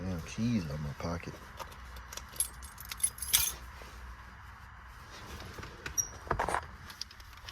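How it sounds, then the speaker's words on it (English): Keys jangle as they are pulled from a pocket beside a car, brief metallic clinks and rattles in short bursts, close by, with a voice talking at the start. "Damn keys out of my pocket."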